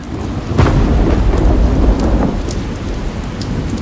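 A dark thunderstorm rolls on with deep, rumbling thunder over a steady roar of heavy rain, sustained and loud throughout with no voices.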